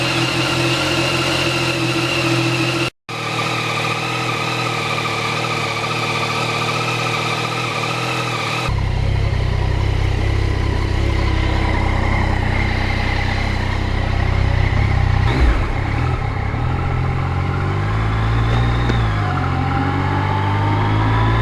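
A 2020 Yamaha MT09 motorcycle engine hums steadily while riding, loud and close, with a brief cutout early on, then a deeper, rougher drone and slight revving swells toward the end.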